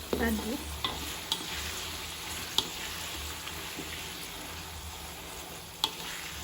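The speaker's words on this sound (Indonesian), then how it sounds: "Ini wajannya goyang-goyang ya teman-teman, jadi aku pegangin aja di ujungnya. Kemudian kita aduk." Squid, petai and green chili stirred in a wok: a steady low sizzle runs throughout, broken by several sharp scrapes and clinks of the spatula against the wok, close and moderately loud, with no talking.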